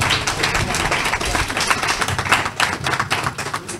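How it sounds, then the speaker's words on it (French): An audience applauds at a foundation's final-stage competition ceremony, its clapping thick, continuous and fairly loud the whole time, with no voices over it. "je voudrais demander d'applaudir pour vous-même"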